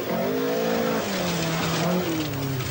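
A 1980 Opel Ascona 400 rally car races close by, its engine note rising and falling through gear changes with a steady, loud roar throughout.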